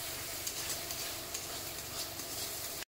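Fish curry gravy simmering in a pan while it is stirred, a steady soft bubbling sizzle with light scraping, even and close throughout, no voices.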